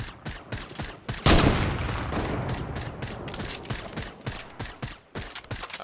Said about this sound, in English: I think these guys are sniping at another team behind us